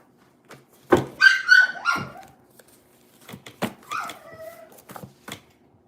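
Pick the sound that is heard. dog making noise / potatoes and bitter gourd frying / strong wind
dog making noise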